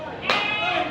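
Goats bleat nearby in a crowded livestock market, a wavering, nasal call rising out of steady background chatter and crowd noise.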